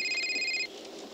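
A telephone rings in the horror video game Sinister Edge, a short electronic trill repeating quickly for about half a second before cutting off, leaving a faint low ambience.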